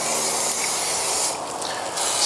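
Oil sprayed back onto a cooking surface after cooking chicken and fried rice, a steady close hiss of an aerosol spray running for a couple of seconds with a brief dip midway.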